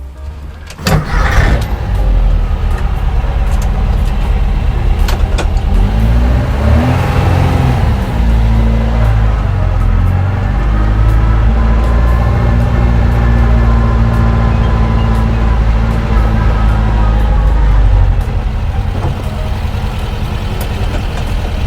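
A 1974 VW Super Beetle with a 2054cc stroker engine starts up loud and close, then its air-cooled engine revs and pulls away, rising and shifting through gears in a steady drone before settling back near the end.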